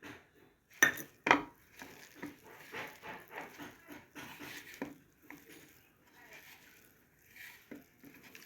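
A spoon or hand clatters against a bowl while onion pakoda batter is mixed with gram flour and asafoetida, giving soft irregular scraping and tapping with a couple of sharper knocks, quiet and close.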